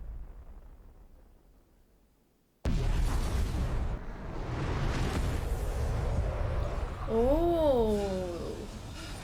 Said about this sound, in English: They blew the torpedoes, so like the shock kind of destroyed the other ones sent by the UN.